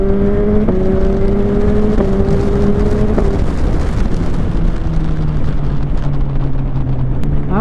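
Suzuki GSX-S motorcycle engine holding a high, steady rev with quick stepped pitch changes from auto-blip shifts, loud and close with constant road and wind roar.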